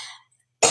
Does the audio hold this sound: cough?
yes